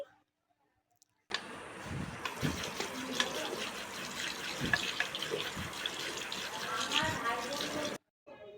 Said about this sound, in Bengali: আমি এখন ব্রাশ করছি